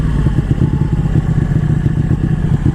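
A Ducati 1199 sport motorcycle engine runs with a lumpy, pulsing throttle, loud and close, its steady rumble holding throughout with rhythmic combustion beats and no talk.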